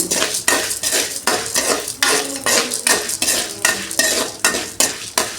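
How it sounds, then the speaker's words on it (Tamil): Chana dal and urad dal are fried in a pan, with a rapid, steady run of metal spoon scrapes and stirs over a light sizzle, loud and close, and no voices. "அதுக்கப்புறம் கடலப்பருப்பு போட்டுக்கலாம் உளுந்தம்பருப்பு இதெல்லாம் வதக்கிக்கணும்"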